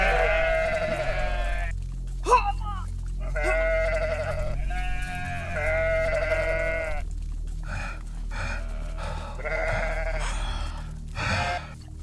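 A flock of sheep bleats again and again in a farm setting, with several loud, close, wavering cries following one another across the whole stretch, and no talking.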